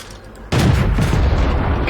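Single loud, close cannon shot from a Type 95 Heavy tank in World of Tanks, an abrupt boom followed by a sustained rumbling roar that stays loud to the end.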